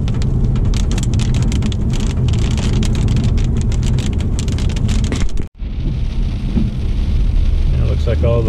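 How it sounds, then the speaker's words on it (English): Rain patters and hisses densely on a hike in the Wichita Mountains wildlife refuge, a close, steady wash with a brief dropout before continuing more softly. "the northwest side of the refuge is getting a pretty decent amount of rain, but just a few sprinkles here"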